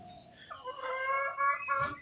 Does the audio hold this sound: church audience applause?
no